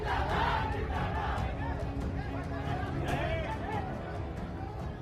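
A large crowd gathered outside Mukhtar Ansari's house, a dense hubbub of shouting and chatter filling the space, with a voice speaking over the babble.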